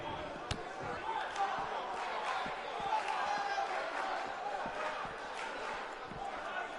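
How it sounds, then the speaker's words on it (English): Sold-out, record-setting crowd at a BCW wrestling event roars steadily, a dense wash of cheering and voices with scattered sharp thuds and claps throughout. "We have a sold-out, record-setting crowd here for BCW tonight."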